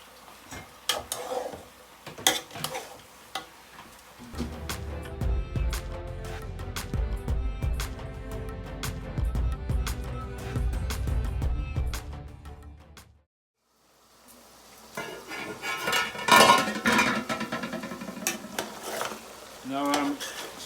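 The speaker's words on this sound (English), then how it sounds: "Now I'm stirring it up, the meat." Stirring a pot of mutton and okra (bhindi) curry with onion and fresh chilli, a steady close scraping and clinking of the spoon against metal over a soft sizzle, pausing briefly before resuming.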